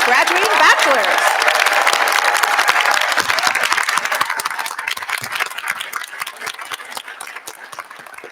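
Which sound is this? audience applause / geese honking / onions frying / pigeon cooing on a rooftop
audience applause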